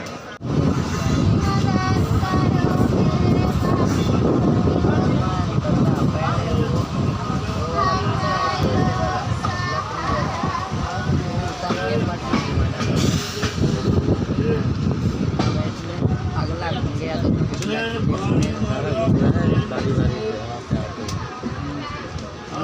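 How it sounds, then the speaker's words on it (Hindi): Swatantrata Senani superfast express pulls out of the station, a loud, continuous rumble and rattle of the moving train heard from inside a carriage, with voices murmuring under the steady noise. "ट्रेन खुल गई।"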